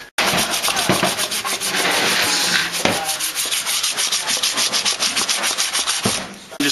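A plastic scraper rasps repeatedly across a waxed snowboard base during a final shave-down in a tuning shop, steady rhythmic strokes close and loud with no talking.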